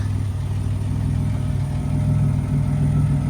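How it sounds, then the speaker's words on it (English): A 1986 Buick Grand National turbo idles with a steady, deep, throbbing exhaust note, close and even, rising slightly in the final moment. "Listen to that exhaust."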